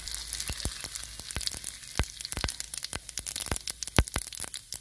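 Mustard seeds pop and crackle in hot oil alongside cumin and carom seeds for a dry masala arbi dish, a quick irregular string of sharp close snaps over a faint sizzle.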